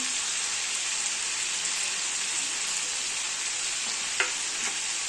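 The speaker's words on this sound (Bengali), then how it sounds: "টমেটো কুচি দিয়ে দেবো" Chopped tomatoes frying with browned chicken in a pan for chicken potato curry, a loud, dense, rain-like sizzle that holds steady, with a couple of spoon scrapes near the end.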